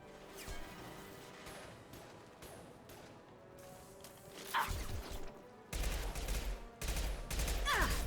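Gunfire in the video game Mass Effect 2 erupts in sharp, loud bursts and rapid volleys, with heavier booming shots clustering toward the end over a low game backdrop.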